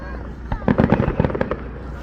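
Consumer fireworks bursting nearby outdoors, a rapid string of sharp cracking pops and bangs clustered in the middle, moderately loud.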